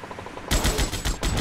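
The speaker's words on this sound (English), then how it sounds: "That was some heavy guns." Heavy automatic gunfire in GTA Vice City, a rapid burst of loud, punchy shots erupting after a moment of quieter rhythmic sound, with a brief gap before more rounds.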